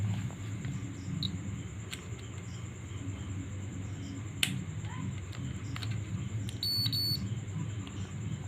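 A digital multimeter set to continuity mode beeps while diodes on an LED/LCD TV power supply board are tested. A steady high-pitched tone holds throughout over a low hum, with a few short extra beeps near the end.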